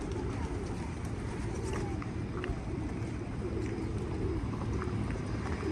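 A flock of pigeons at a Buddhist monastery in Mongolia gives low cooing and rustling wingbeats over a busy outdoor hum, with faint murmuring voices in the background.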